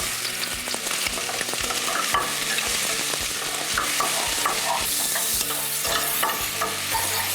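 Garlic and mushrooms frying over high heat in a hot pan, a loud, steady sizzle with repeated rhythmic stirring scrapes and knocks, close up with no voices.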